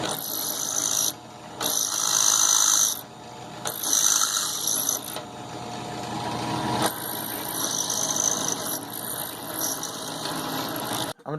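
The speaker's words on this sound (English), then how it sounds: "I'm using a drill press here" A drill press runs in a workshop, its motor whirring in several loud bursts that start and stop, with mechanical rattling and ratcheting between runs and no speech.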